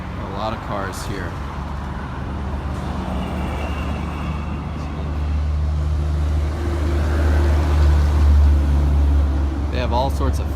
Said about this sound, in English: A lot of cars here.